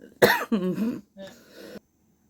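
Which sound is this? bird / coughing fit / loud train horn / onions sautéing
coughing fit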